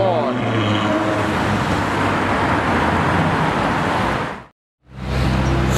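A Novitec-tuned Ferrari F8 Tributo roars loudly and close with a dense, sustained engine blast, then cuts off abruptly into a brief silence before the roar picks up again.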